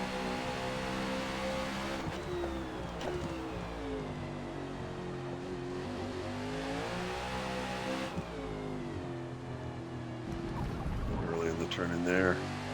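Race car engines drone in Forza Motorsport during a NASCAR race at the Indianapolis GP circuit: sustained layered engine tones rise and fall with shifts, and several cars roar close by together.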